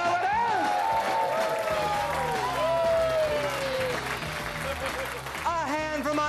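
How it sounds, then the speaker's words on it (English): A theatre audience applauds after a stage magic trick, a broad, sustained roar of clapping and crowd noise blended with bright music and swooping tones. "And if this isn't time for thunderous applause"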